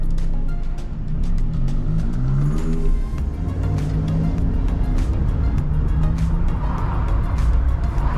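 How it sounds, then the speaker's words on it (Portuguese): A bus engine rumbles on a city street, a steady loud low drone with a rising rev, heard alongside passing traffic in a busy downtown setting. "Alguém que conhece melhor esse busão aí."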